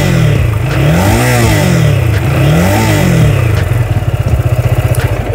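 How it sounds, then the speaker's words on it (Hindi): A Keeway SR250 250 cc motorcycle revved twice in sharp rising and falling sweeps from idle, the exhaust loud and close, then settling into a rapid, pulsing idle. "अब थोड़ा सा इसको रेव करते हैं और सुनते हैं एग्जॉस्ट नोट के साथ"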